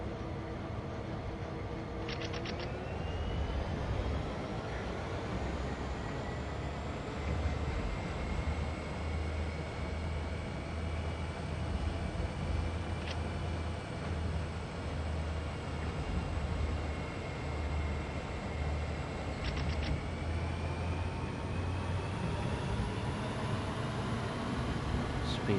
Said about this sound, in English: I can hear just the audio sounds of the engine trying to fire up